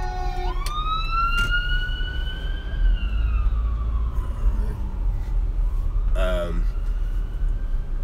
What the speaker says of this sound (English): oh, jeez, I got a emergency vehicle